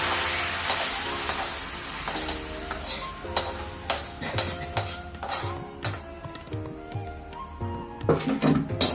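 Fried onions tipped into a pot of sweet mung dal, with a close, continuous sizzle under repeated clinks and scrapes of a metal spoon stirring against the pan.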